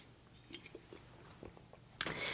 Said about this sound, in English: I'm taking little sips.